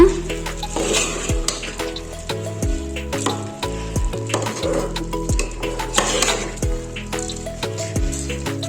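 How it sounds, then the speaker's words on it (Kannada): Soaked rice and jaggery are stirred in a cooking pot for a North Karnataka pulao, giving soft repeated scraping and sizzling under steady background music. "ಈಗ ಚೆನ್ನಾಗಿ ಮಿಕ್ಸ್ ಮಾಡಿಕೊಳ್ಳೋಣ"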